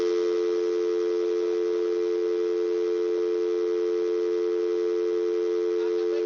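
A steady, continuous telephone dial tone hums at even volume throughout after a dropped call, with no voices or other sounds.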